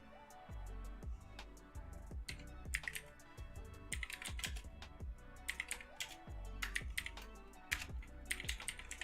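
Uneven bursts of typing on a computer keyboard, clattering keystrokes in irregular clusters with short pauses between, fairly close and steady for the whole stretch with no talk over it.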